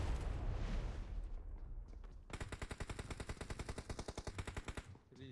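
Rapid automatic gunfire in the video game PUBG rattles off as a steady burst of evenly spaced shots lasting a few seconds, following a noisier stretch of game sound.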